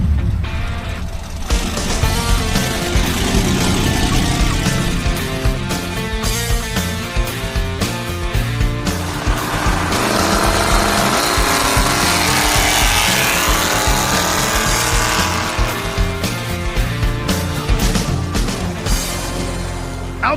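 A hot-rod car cruises down Central Avenue in Albuquerque, its engine droning loud and steady throughout with continuous road and mechanical noise and no talk.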